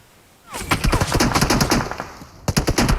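Rapid automatic gunfire in the PUBG Mobile battle royale game, loud dense bursts of shots firing in quick succession for several seconds with a short pause, over faint background ambience.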